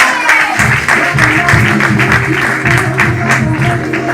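Applause from an open mic stand-up comedy crowd greeting a comedian onto the stage, a dense steady wash of many hands clapping throughout with some cheering mixed in, loud and close.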